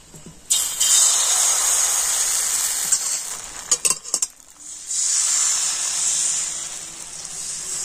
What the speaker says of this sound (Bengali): আর এবার আমি এক হাতা ব্যাটার নিয়ে কড়াতে দিয়ে দিচ্ছি।